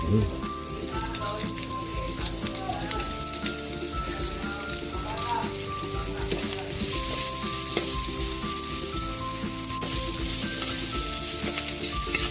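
Onion sizzles loudly in a hot pan for a chopsuey dish, with a dense continuous crackle and occasional stirring clatter. The frying grows a little brighter partway through and keeps going steadily without pause.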